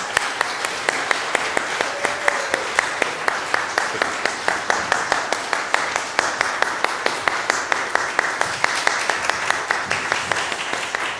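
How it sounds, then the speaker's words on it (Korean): A church congregation claps warmly for a visiting touring team, a steady, dense round of applause from many hands that lasts several seconds and fades slightly at the end. "우리 다시 한번 뜨겁게 박수 한번."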